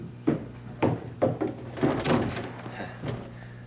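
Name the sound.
cane knocking against a dining room chair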